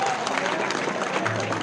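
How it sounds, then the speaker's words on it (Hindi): A crowd at a village election campaign event claps loudly and briskly in a short burst to welcome a politician arriving on stage. "एक बार जोरदार तालियों से स्वागत है"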